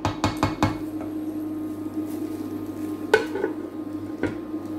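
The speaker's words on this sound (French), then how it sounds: "vous allez faire fondre l'ail et l'oignon un petit peu dans un feu" Garlic and onion soften in a pan over low heat for savory quesadillas, giving a faint low sizzle broken by a few quick utensil clanks at the start and occasional scrapes against the pan.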